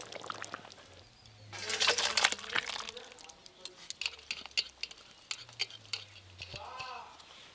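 Cooked fish curry is tipped out of the pan with scraping, clinking and wet pouring sounds in bursts, some louder scrapes and patters in the middle, with faint kitchen noise around.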